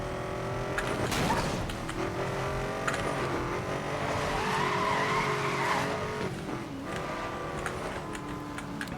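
A car in Need for Speed: Most Wanted (2012) brakes and then drives on, with a steady engine drone, a brief tire squeal early and continuous road noise throughout, with no talking.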